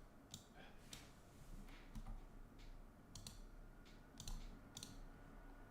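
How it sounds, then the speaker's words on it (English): Keys clack on a computer keyboard in short irregular bursts of light taps, faint and close, set against a quiet room hum. "Actually, I can type this one out."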